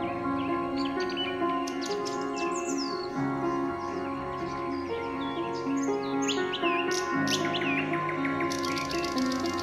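Several birds sing and chirp together without a break, giving a dense, lively chorus of trills and tweets with occasional harsher calls mixed in. The layered song fills the whole stretch at a steady, moderate loudness.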